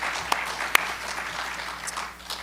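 Audience applause at a candidate forum, a steady wash of clapping close by with a couple of sharper individual claps standing out, continuing throughout the short stretch.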